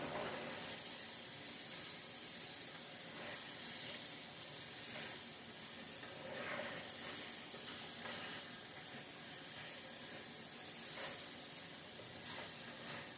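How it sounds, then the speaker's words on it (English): Onions cook down in a pan with a constant, faint sizzling hiss that holds steady without pause. "I'm just going to cook my onions down until they're a little bit soft."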